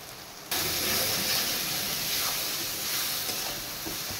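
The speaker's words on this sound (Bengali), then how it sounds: "মশলাটা একটু কষিয়ে নেওয়া হচ্ছে।" Spice masala of dried chilli powder, Kashmiri chilli and salt hitting hot oil for a puti fish curry bursts into a loud, steady hissing sizzle that holds strong and close throughout.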